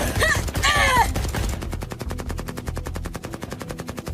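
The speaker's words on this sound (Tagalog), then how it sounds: "Sabay-sabay naming ipinutok ang dala naming baril sa nilalang" Sustained rapid gunfire as soldiers fire together at a creature in a Filipino horror audio drama, opening with loud shouts and a burst of blasts, then a steady, close, rhythmic volley of rounds.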